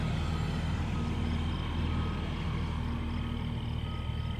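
A big truck hauling heavy equipment backs up with a steady repeating reversing beep over a constant low engine rumble, close and loud, with no talk.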